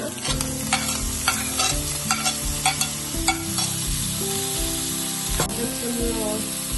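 Tomatoes tossed into beans, carrot and potato frying in a pan, steady close sizzling under rhythmic spatula scrapes and taps, with a low hum running beneath.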